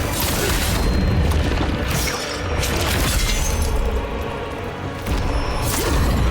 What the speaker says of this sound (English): That's bad. That's the explosion.